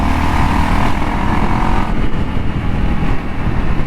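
A Honda XR 250 off-road motorcycle with an aftermarket exhaust running while being ridden in Sri Lanka, a steady loud engine drone with wind rush, close to the rider.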